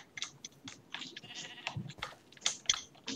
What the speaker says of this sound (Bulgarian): Аре ма овца.